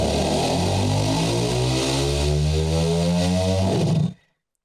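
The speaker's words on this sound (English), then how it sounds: "That's as far as I'm revving it." A W12 engine in a land speed record car revs loudly, its roar climbing steadily in pitch for about four seconds before cutting off abruptly into silence.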